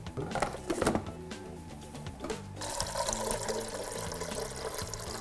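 Water pours steadily into a filter coffee maker in a home kitchen, a continuous splashing fill that begins partway through while music plays underneath.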